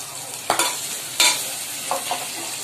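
Ginger and garlic paste fries with onion and tomato in a pan for a fish curry, as a low sizzle runs under two sharp spatula strikes and a few lighter scrapes.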